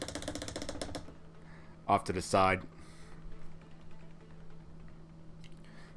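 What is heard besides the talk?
paintbrush being cleaned off in a water jar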